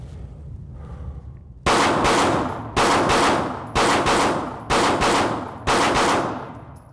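Pistol fitted with a Vortex Defender-CCW red dot fired in live-fire drills, with five loud, close, sharp reports spaced about a second apart, each one ringing out and decaying before the next.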